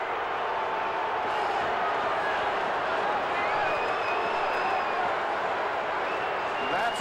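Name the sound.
football stadium crowd cheering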